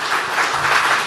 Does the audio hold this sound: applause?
yes